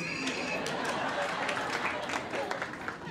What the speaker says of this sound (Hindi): माता जी लोग तालियां बजा रही है।